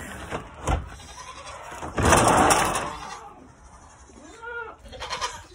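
Nigerian Dwarf goats bleat a few times during milking, one wavering cry standing out near the end, over a steady background hum and some rustling and knocking nearby.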